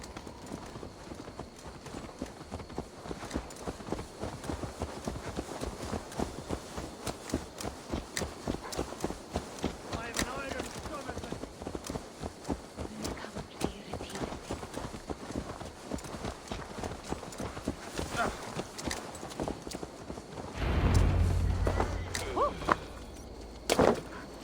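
Horse hooves clip-clopping steadily at a walking pace in Assassin's Creed Valhalla, a long run of close, regular hoof strikes with a brief louder thump near the end.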